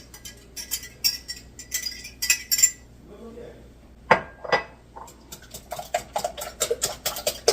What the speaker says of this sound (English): So I'm beating this together, and then that will be my custard for the frittatas.